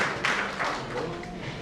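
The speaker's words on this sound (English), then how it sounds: "A big clap for our secretary." An audience at a scientific conference claps, a short burst of applause under speech that carries on through it.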